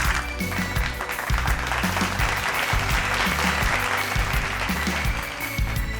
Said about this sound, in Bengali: একটা জোরে হাততালি আরো একবার মেঘলার জন্য